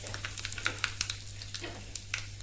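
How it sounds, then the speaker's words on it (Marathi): Asafoetida hits hot tempering oil with cumin and mustard seeds just after the gas is turned off, producing a continuous close sizzle full of quick crackling pops. "त्याच्यामध्ये आपण हिंग घालूयात"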